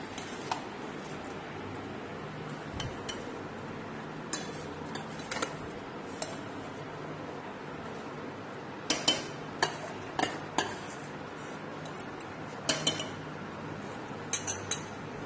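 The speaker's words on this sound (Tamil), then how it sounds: "இப்போ நம்ம பாஸ்மதி ரைஸை உள்ள ஆட் பண்ணிக்கலாம்." Basmati rice is added to boiling coconut milk in a pan for thengapal sadham and stirred, giving soft ongoing bubbling and scraping with scattered metallic clinks of a spoon against the pan, close and fairly quiet.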